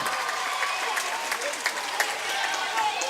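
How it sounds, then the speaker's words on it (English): Spectators at a Rochester versus Southwood volleyball match applaud and cheer in a steady wash of clapping and crowd noise, with a commentator talking over it. "And the crowd really emotionally into this thing."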